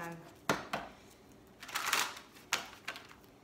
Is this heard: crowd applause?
no